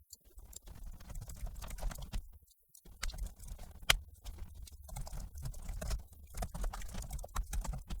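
Code is typed on a computer keyboard in quick, uneven bursts of soft, close clicks with brief pauses between strokes.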